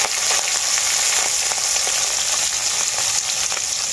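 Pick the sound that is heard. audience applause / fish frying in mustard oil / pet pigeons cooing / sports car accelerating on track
fish frying in mustard oil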